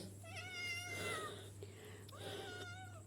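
A domestic cat meows in several drawn-out, rising calls, fairly close and clear over a steady low hum, with brief pauses between cries.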